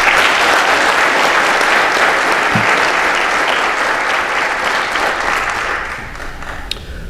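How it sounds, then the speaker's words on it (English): Sustained applause from a ceremony audience honoring award recipients at a Border Patrol graduation, broad and even clapping that holds steady for most of its length before tapering off near the end. "Please join me in giving the award recipients a round of applause."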